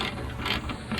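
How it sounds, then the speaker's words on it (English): A ratchet clicks quickly while tightening an 8mm bolt on a Mustang GT air filter housing, a short close burst of rapid pawl ticks. "Take your ratchet."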